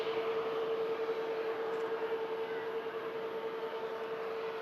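Airbus A350-1000 at Manchester Airport, a steady distant jet roar with a strong sustained whine running through it, continuous and even, with no talk.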